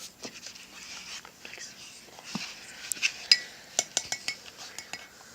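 Homemade slime is mixed in a container, giving soft, faint squelching and stirring noises with a few sharper clinks of a utensil against the container near the end.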